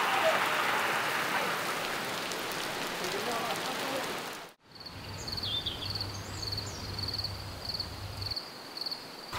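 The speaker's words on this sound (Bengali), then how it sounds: "এই যে এত বৃষ্টি কখনো এক্সপেক্টই করি নাই" Heavy rain falls on a hill trail near Napittachora waterfall in Mirsarai as a steady, dense patter. After an abrupt cut it turns quieter, with a faint high insect-like tone and a low hum beneath.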